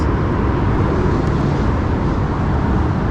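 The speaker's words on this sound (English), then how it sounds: "A bunch of cars driving over us." Loud, continuous roar of traffic passing on an overpass overhead, a dense steady rumble of many vehicles with no pauses.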